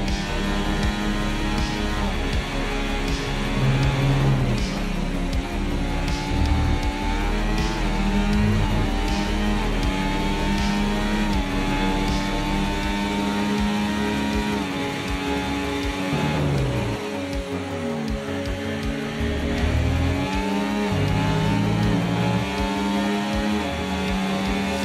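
F1 race car in the F1 24 video game lapping Bahrain at full speed: a loud, high engine whine climbing through rapid gear shifts, dropping under braking and revving back up, continuous throughout.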